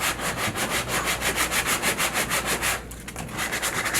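A fiberglass keel patch on a kayak rubbed down by hand with 120 grit sandpaper, a steady close rasping in rapid even back-and-forth strokes, briefly pausing before resuming.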